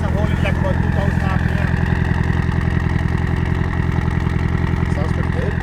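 A Nissan 240SX S14 engine held steady at around 2,000 RPM, a loud, even, rapidly pulsing drone that stays constant throughout with no talking over it.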